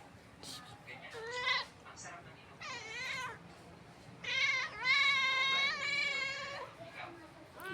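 A pet cat meows several times in drawn-out, rising and falling calls, with longer, louder meows near the end. A voice can be heard faintly between the calls.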